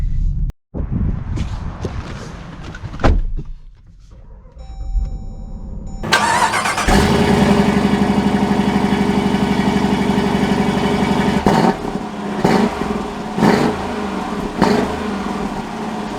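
A 5.7-liter Hemi V8 in a Dodge Durango cranks and roars to life, revving briefly before settling into a loud, steady, deep idle close by.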